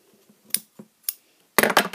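Scissors snipping the ribbon ends of a pinwheel bow, a few soft sharp cuts close by with small rustles between, ending in a louder burst of handling noise, no talk.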